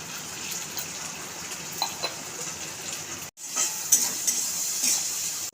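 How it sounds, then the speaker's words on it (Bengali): Onions frying in a pan in a home kitchen give a steady, soft sizzle with a few brief stirring clatters, close by and without talk. "পেঁয়াজগুলো ভেজে গেছে, ভাজা হয়ে গেছে"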